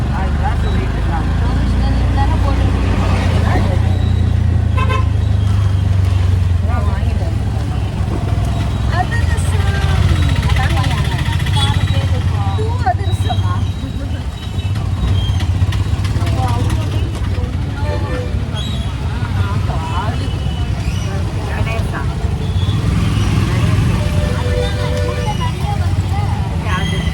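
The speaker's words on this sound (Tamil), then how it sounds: "செம்ம டிராஃபிக் இல்லை" Heavy road traffic in Koyambedu, Chennai: dense engine rumble from cars, buses and motorcycles with scattered horn honks, loud and continuous, with people talking over it.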